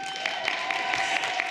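Audience applause greeting attorney Elizabeth Yeampierre as she receives the Celebrating Women Award, with dense steady clapping from a crowd throughout.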